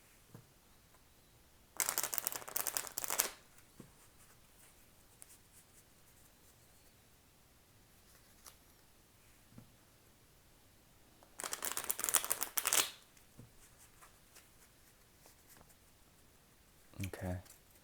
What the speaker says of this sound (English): Just 3 more shuffles and we'll get started.